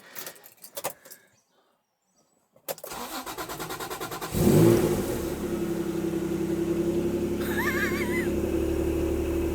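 A Honda NSX with a history of starting trouble cranks briefly after some jingling keys, then fires up and settles into a steady, close rumbling idle.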